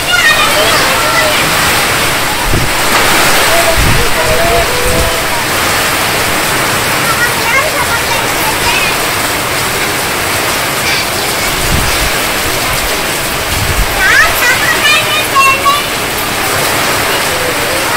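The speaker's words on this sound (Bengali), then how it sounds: "আর যেভাবে বৃষ্টি নামছে আমার মনে হয় না এই বৃষ্টি কমবো, সারাদিন হইব" Heavy rain pours with a storm in a Bangladeshi village, a loud steady hiss and splatter of water with occasional low thumps and gusts throughout.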